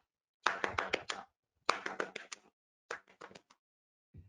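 Hands patting rhythmically on a lap during a music therapy session for people living with Alzheimer's, three quick bursts of crisp taps with short pauses between, close and clear in a quiet room.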